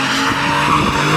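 A BMW M3 or M4 in a street race skids with loud, sustained tire squeal over a rough engine roar, close and continuous.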